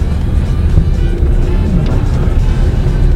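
Mercedes-Benz GLS400 Exclusive Edition luxury SUV driving on the road, a steady low engine and road rumble heard from inside, continuous and fairly loud with no talk.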